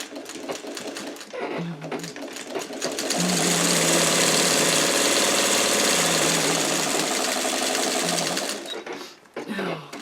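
A sewing machine stitches a pillowcase, starting with short stop-start bursts and then running steadily at a slower pace over thick fabric, with a person talking before and after the run.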